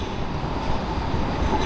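A tram rolling past, a loud steady rumble of wheels on rail filling the whole moment, close by with a faint squeal and no voices.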